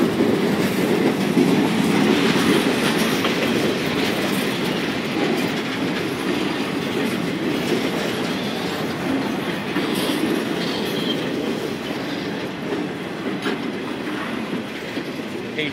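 A train rumbles steadily through a rail yard, wheels clacking and rolling continuously with faint squeals, no voices.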